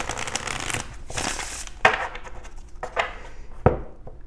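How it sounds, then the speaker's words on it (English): Mermaid Tarot cards being shuffled in a quiet room, a run of soft riffling bursts broken by a few sharp taps as the deck is squared. "Let's go ahead and get a shuffle in here."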